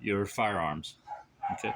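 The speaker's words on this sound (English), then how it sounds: "you have to excuse the dogs barking" Dogs bark nearby in a few sharp, harmonic yips, with someone speaking briefly in between.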